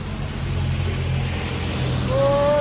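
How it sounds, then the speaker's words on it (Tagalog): Heavy rain pours steadily during wet weather, a dense continuous hiss heard close and alone, with a brief tonal sound rising near the end. "grabe ang ulan"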